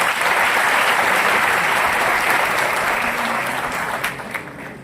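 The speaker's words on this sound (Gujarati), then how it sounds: "જબરદસ્ત ફરીથી તાળીઓ પડાવો." An audience at a Bhagavad Gita discourse applauds, a loud, dense and steady wash of many hands that thins slightly near the end.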